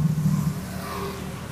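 Old Vespa scooter engine running with a low, steady mid-pitched drone that swells slightly in a short rev, heard fairly close and alone.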